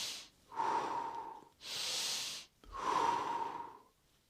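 Deep nasal inhales during a Tummo breathing session, two long close breaths drawn in with brief exhales between them, breathy and alone with no talk.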